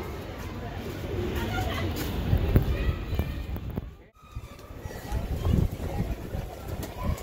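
A green-necked pigeon coos now and then within a noisy loft full of flying-breed pigeons. Rustling, movement and a brief dropout in the middle partly mask the calls.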